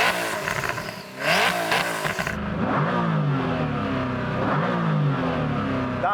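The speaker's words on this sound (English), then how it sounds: "So I'm going to start off by revving up this Koenigsegg." A Koenigsegg supercar engine revs hard, rising and falling through several loud, growling bursts close by, with no talking.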